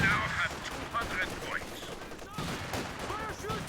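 Bursts of gunfire crackle in Company of Heroes, rapid machine-gun rattles and rocket-rack volleys overlapping in a dense, loud battle din with scattered sharper shots throughout.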